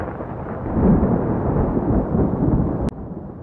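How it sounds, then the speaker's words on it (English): A deep, rolling crash of thunder in an audio drama during a night-time storm, a loud broad rumble sustained for a few seconds with a brief sharp crack near the end, no voices over it. "Then came the crash of thunder."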